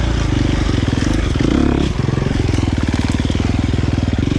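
A KTM 350 XC-F dirt bike with a Vortex-tuned ECU runs steadily and loudly up close, its engine note pulsing rapidly as it rides along.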